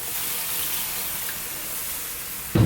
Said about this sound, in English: Right, in goes water. Cold water I'm going with.